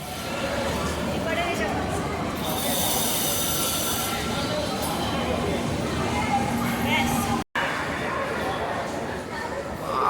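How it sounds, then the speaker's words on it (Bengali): A delayed passenger train rolls into a busy station platform, with loud continuous rumble, hiss and wheel squeal that fills the scene under crowd noise, broken by one short gap. "এখন ঢুকছে ট্রেন দেখা যাক কী হয় এবং কখন ছাড়ে"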